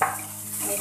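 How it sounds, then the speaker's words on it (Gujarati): Carrots being stirred in a hot frying pan, a brief close sizzle with a short scrape of the spatula, no voices. "મિક્સ કરી લઈએ।"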